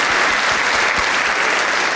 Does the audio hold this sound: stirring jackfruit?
no